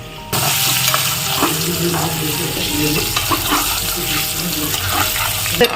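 Onion paste with a little turmeric fries in hot oil for a potato masala curry, a steady loud sizzle with scraping and stirring noises close by, and a voice speaking briefly over it.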